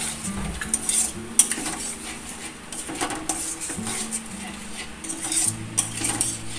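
Pointed gourd with beaten sour yogurt sautéing in a pan, with a metal spatula repeatedly scraping and clinking against the pan over a soft, low sizzle. There is no talking.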